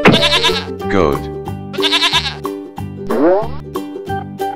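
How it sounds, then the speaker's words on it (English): A goat bleats in short, shaky cries, heard twice over an upbeat children's tune with light plucked notes. "Goat."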